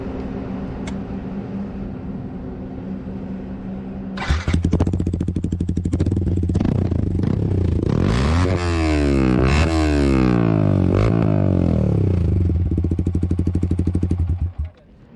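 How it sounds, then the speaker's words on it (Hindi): A Yamaha R15M motorcycle with a loud exhaust idles with a burbling note, then revs hard through repeated rising and falling throttle blips, close and very loud, before settling again. "तो गाइस एग्जॉस्ट नोट सुन लीजिए आप लोग।"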